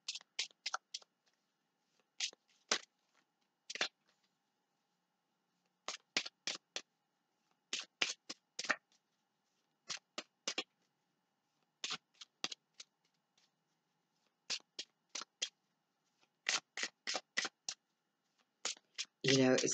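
Tarot cards shuffled by hand in quick riffled bursts, each a second or two long, separated by short silent pauses, close and fairly quiet in a still room.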